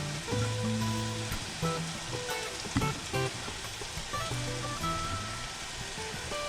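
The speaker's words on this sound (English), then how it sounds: "next up I'm going to start adding some water into the rice" Water pours steadily into a pan of toasted rice with a continuous splashing rush, with some soft sizzling and clinks underneath, fairly quiet and close.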